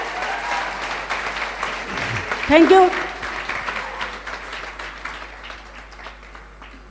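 Applause from the audience at a Safe Shop event hall, a broad steady clapping wash running throughout, with someone speaking briefly over it near the middle.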